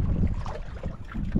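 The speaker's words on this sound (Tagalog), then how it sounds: "Mas lalong lumakas ang hangin, lalong lumakas din ang agos, ano?" Strong wind at sea buffets a fishing boat, a rough low rumble of gusts against the microphone with faint splashing, loud and continuous for a brief moment.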